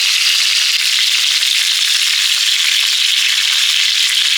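Poppy seed paste frying in a pan, heard as a loud, even, continuous sizzle with no pauses or voices.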